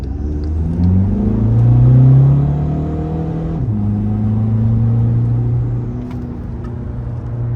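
A 2015 Volkswagen Passat TDI diesel engine pulls hard under acceleration, its droning note rising, dipping at a gear change, then climbing again as a steady close rumble.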